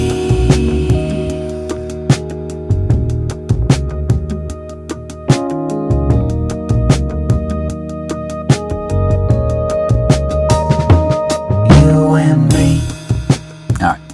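A produced music track of punchy drums with Rhodes electric piano chords, loud and continuous, with steady kick and snare hits under sustained keyboard harmonies and a busy fill near the end.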